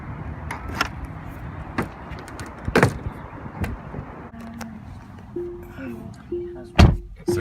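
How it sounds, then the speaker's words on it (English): A Tesla Model S 100D door closes with a few sharp thumps and clicks, while a soft electric motor whir rises partway through, close by inside the car. "So used to the door closing for me."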